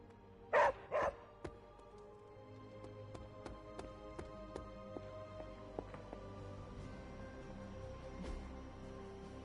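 A dog in the game Marvel's Midnight Suns gives two loud close barks, then a string of softer yips and clicks trails off over a quiet in-game background.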